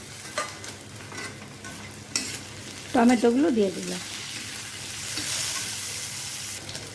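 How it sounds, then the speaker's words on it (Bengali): Chopped tomatoes frying in a pan for butter paneer masala, a steady close sizzle with scraping stirs; a voice speaks briefly in the middle and the hiss swells slightly toward the end. "এবার আমি এর মধ্যে দিয়ে দেবো কেটে রাখা এই টমেটোগুলো"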